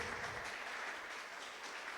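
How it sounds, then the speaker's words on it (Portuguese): A church congregation applauding during a Wednesday service, a steady wash of clapping that sounds distant and fairly faint, continuing without a break. "Vamos aplaudir bem forte a Jesus que Ele merece."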